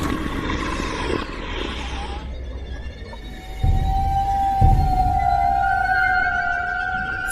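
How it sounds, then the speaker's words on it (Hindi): Whale calls at sea ring out as long, drawn-out tonal moans and rising whistles over a steady, rumbling wash of background noise, growing louder and more sustained toward the end. "सरदार, वहाँ देखो, वहाँ पर एक व्हेल मछली है।"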